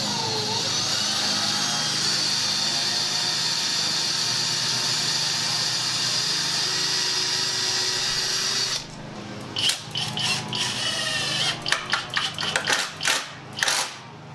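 Power drill whirs steadily as it drives screws into a homemade wooden pillory, a medieval-style stocks prop, with a long continuous run followed by several short stop-start bursts as each screw seats.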